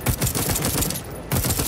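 Deathloop firearm gunfire comes as a rapid burst of loud, close shots in a rattling rhythm, with a short pause before the shooting resumes.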